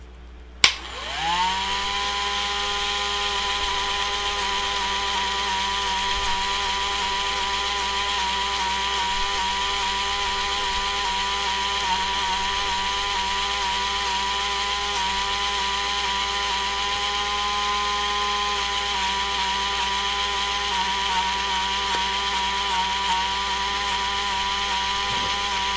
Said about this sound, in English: I'm just being lazy, using a slower speed and using the sanding drum because I've got more of them.